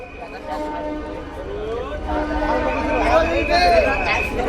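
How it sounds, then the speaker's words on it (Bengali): An inaugural EMU special train runs from Amghata station toward Krishnanagar City Junction, a sustained horn tone sounding over steady rolling rumble, with crowd voices around it. "আমঘাটা রেল স্টেশন থেকে কৃষ্ণনগর সিটি জংশনের পথে উদ্বোধনী ইএমইউ স্পেশাল ট্রেন ছুটে চলেছে"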